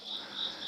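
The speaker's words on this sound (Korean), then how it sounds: "이 원신을 하면서 이렇게 귀뚜라미 소리가 잘 들린 적은 처음인 것 같습니다." Crickets chirping in the video game Genshin Impact, played through a rugged phone's speakers: a steady high-pitched trilling chirp pulsing in regular bursts, clear and fairly quiet with no speech.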